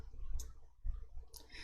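Two soft, close computer mouse clicks spaced about a second apart stand out over a quiet, low room hum while someone works in an Excel spreadsheet.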